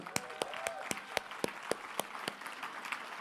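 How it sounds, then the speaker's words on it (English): A small seminar audience gives a sparse round of applause: roughly a dozen distinct, fairly quiet claps spaced across a few seconds, each sharp and separate rather than a dense roar. "Give her a round of applause"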